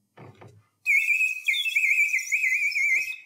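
Whistle imitating a chaffinch's song: a piercing, warbling whistled phrase with rapid trills, close and loud, preceded by a brief soft sound.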